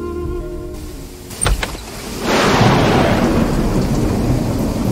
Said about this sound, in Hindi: कैसी आंधी और तूफान चल रहे हैं।